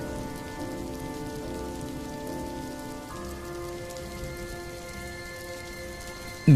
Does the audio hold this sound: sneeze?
no